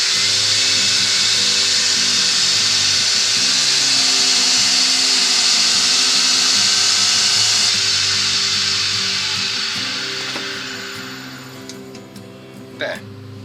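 A wood lathe spins up while turning a small wooden box and earring holder, a loud steady high whine and rumble that holds for several seconds, then fades as it slows, ending with a brief tool scrape.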